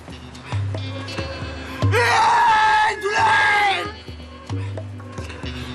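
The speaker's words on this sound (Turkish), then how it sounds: "Şimdi sarhoş taklidi yapıp bağırıyoruz tamam mı?" Several people yell and whoop in exaggerated drunk-sounding voices, the loud shouting rising in two bursts over a steady low hum and background chatter.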